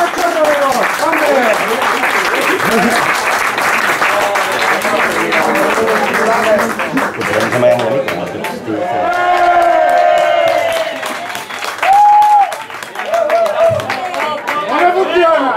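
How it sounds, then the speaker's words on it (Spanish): Audience applause and cheering for the performers Curtis y Kronia at a live show, a dense crowd clapping loudly and steadily, with shouts and a voice speaking over it midway. "¡Un aplauso para Curtis y Cronia!"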